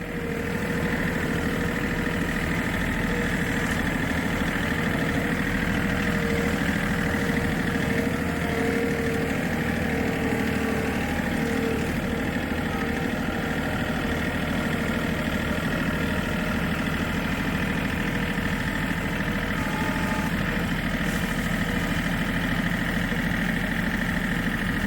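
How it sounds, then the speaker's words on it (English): A lawn tractor's small engine running steadily while doing dirt work, a continuous, fairly loud, unchanging mechanical drone with no pauses or speech. "Do a little bit of redneck dirt work with the lawn tractor."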